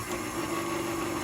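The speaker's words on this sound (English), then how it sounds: "we're just going to turn the mixer on for a second to dissolve that sugar" A stand mixer runs briefly to dissolve sugar in water for homemade bread, giving a steady close motor whir with a droning hum and no voices.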